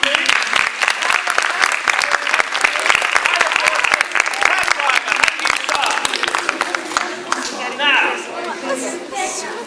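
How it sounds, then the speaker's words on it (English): Audience applause for two horses on stage in a Sherlock Holmes show, loud and sustained with sharp crisp claps, cheering and chatter mixed in, thinning out near the end as voices take over. "Can we have a big round of applause, please?"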